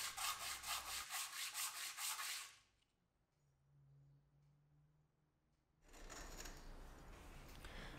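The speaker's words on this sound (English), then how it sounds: "I quickly touched up the faces with some sandpaper." Sandpaper rubs back and forth on the faces of a connector plate for a DIY mic boom arm, a close rhythmic scratching that stops, a quiet gap, then a second burst of rough sanding.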